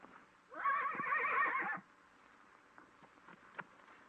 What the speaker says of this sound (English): Give Andy your horse.